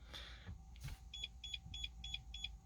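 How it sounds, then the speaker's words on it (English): Five short, evenly spaced electronic bleeps from a Starline i96v2 immobiliser in a Mercedes CLA 45 AMG, coming after a brief click and a faint low hum inside the car. "And we get 5 bleeps"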